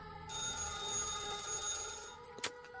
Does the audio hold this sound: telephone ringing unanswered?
yes